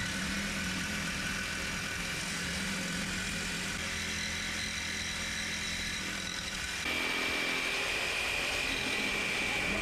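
A GMC Yukon idles steadily on a newly installed muffler before the tailpipe section is fitted, a constant low engine drone running alone at close range, with a slight step up in tone near the end.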